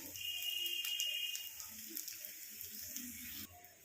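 Onions frying in a pan alongside eggplant for a home-cooked methi greens and brinjal lunch, giving a steady, close sizzling hiss with a faint thin tone early on, which drops away abruptly near the end.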